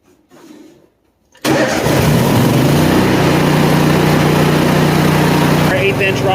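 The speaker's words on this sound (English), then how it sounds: "So start up this welder," An engine-driven welder cranks and fires up, then settles into a loud, steady mid-pitched idle, with faint low talk in the quiet just before it starts.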